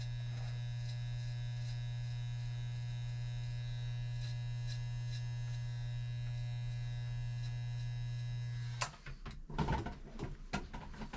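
Hair clippers with no guard and the blade open buzz in a steady, close electric hum for several seconds before cutting off, followed by a few handling clicks and knocks.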